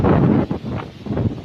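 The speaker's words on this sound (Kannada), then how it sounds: "ಬಿರುಗಾಳಿ ಬೆನ್ನಂಗೆ ಬರುತ್ತೆ ಡಸ್ಟ್." Strong gusty wind sweeping dust across an open farm field in Koppal, roaring and buffeting loudly right at the microphone in uneven surges.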